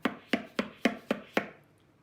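Six mid-pitched tabla drum strokes struck at a steady, even pace, each a sharp resonant hit with a short ringing decay, played alone and close, the final stroke fading into quiet.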